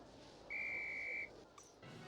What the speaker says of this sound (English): On my whistle.